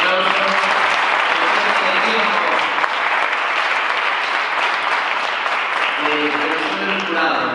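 Applause from an audience after a project pitch at the Maker Faire Galicia 2018, a steady dense clapping that fills the whole stretch, loud and close.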